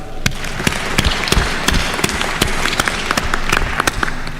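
Audience applause at a university graduation ceremony, a dense, loud wash of many hands clapping with sharp individual claps standing out, steady throughout.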